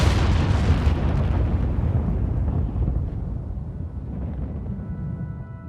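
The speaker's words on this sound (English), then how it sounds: "Close to 1 million pounds of gunpowder detonates." A huge explosion of close to a million pounds of gunpowder aboard the battleship USS Arizona at Pearl Harbor: a loud, deep rumbling roar that fills the start and slowly fades into a long, dull rumble.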